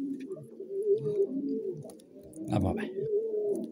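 Pigeons in a loft coo in low, rolling, throaty calls, one bird calling from inside a nesting box, fairly close and continuous, with someone speaking briefly over them.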